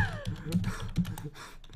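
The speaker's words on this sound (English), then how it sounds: "I was typing to people." Rapid clicking keystrokes on a computer keyboard during a Roblox game session, moderately close and continuous, with faint game sounds in the background.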